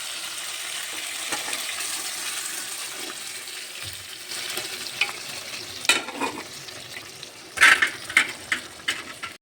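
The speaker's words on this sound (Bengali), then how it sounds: "এবার আমি দিয়ে দেবো সেদ্ধ করে রাখা ডাল" Masala frying in a pan with boiled dal, potato and papaya stirred in, giving a steady sizzle with intermittent scraping stir strokes that grow louder and more pronounced toward the end, no talking.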